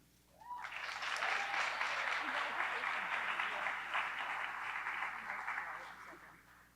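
An audience at a high school senior awards ceremony applauds, the clapping rising quickly after a brief spoken lead-in, holding as a dense steady patter for several seconds, then gradually thinning out.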